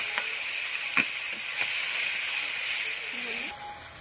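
Chopped tomatoes hit hot oil in a home kitchen, making a bright, steady hissing sizzle with a few sharp ticks. It eases to a quieter hiss just before the end.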